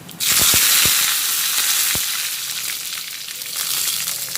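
Cumin seeds, chillies and curry leaves hit hot oil with a sudden loud burst of sizzling and a few sharp pops, then settle into a steady crackling hiss.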